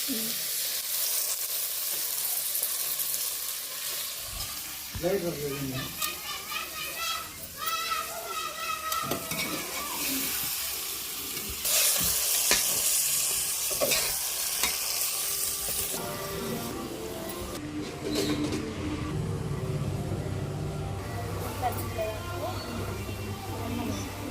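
Chicken pieces with turmeric and salt sizzle in a pot over a wood-fired stove outdoors, giving a steady frying hiss. People talk nearby throughout, and a few faint animal and background sounds can be heard.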